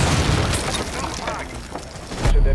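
A breaching charge detonates in Rainbow Six Siege, a loud deep boom near the end that follows a stretch of busy game noise with a voice talking over it.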